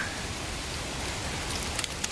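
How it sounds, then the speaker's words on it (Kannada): Steady rain pours down on a forest trail in Chikkamagaluru on the way to a waterfall temple, a dense even hiss with a few sharp drops tapping close to the microphone near the end. "ಮಳೆ ಬರ್ತಿದೆ, ಮೊಬೈಲ್ ನೆನೀತಾ ಇದೆ"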